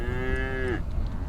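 A single cow on open public grazing land gives one steady, clear moo that drops off sharply at the end, close and fairly loud, with no talking.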